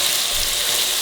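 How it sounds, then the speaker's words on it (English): Worcestershire sauce hits sausage frying in a pan, and a steady broadband sizzle holds for a second with no voices over it. "So now I'm adding the Worcestershire sauce."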